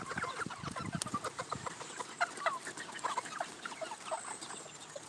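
Backyard chickens cluck in a quick, uneven series of short calls, close and fairly quiet, with no talking.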